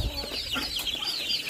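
Chickens cluck and chatter close by in a short, busy burst of overlapping calls.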